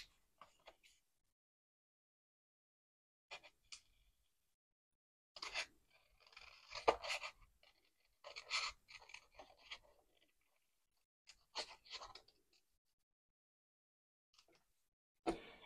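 A traced paper shape is cut out for a library pocket mini album, giving faint, close, intermittent crisp snips and scraping bursts separated by near silence.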